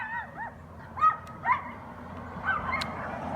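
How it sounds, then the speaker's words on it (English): Two dogs bark a few times in the distance outdoors near a house, short separate yips and barks spread over a few seconds above a low steady background rumble. "2 dogs are gonna start barking."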